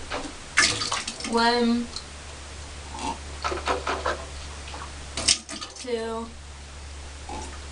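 Water swishes and gurgles in a mouth during rinsing, in two distinct bubbly bursts separated by a pause, close and fairly quiet, with a voice counting in between.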